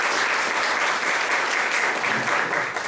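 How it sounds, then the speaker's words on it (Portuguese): Steady applause from a crowd for a speaker at a lecture, dense clapping throughout without pause. "Salva de palmas"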